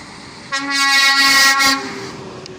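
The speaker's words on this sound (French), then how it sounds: "Super klaxon." A truck's air horn blasts once in a loud, sustained honk lasting just over a second, standing out clearly against quiet road background with no talk.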